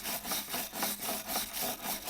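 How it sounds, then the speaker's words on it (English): Stiff wire-brush bristles scrape back and forth over a rusty Ford Transit sill channel in a steady rhythm, a quiet, gritty scrubbing of about eight strokes with no voices. "I'll start off with a wire brush in this channel where it's really bad."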